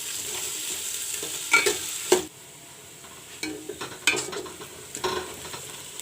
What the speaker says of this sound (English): Put in the onions to fry.